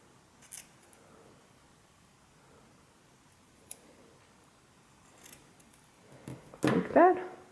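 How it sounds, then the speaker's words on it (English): Scissors trim a crocheted pompom chick piece, a few faint isolated snips early on, then a louder cluster of close cutting and rustling near the end, with no talking. "I'm going to go ahead and trim it down a little bit more"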